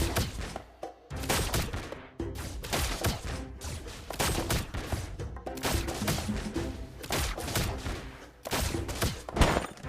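Pistol gunfire in a video game, fired by the character Harper, comes in rapid loud bursts of sharp shots that repeat across the whole stretch with only brief gaps.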